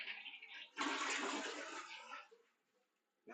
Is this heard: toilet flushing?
yes